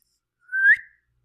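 A person gives a single short rising whistle to call a pet dog out of the kitchen, clear and close, alone in near silence.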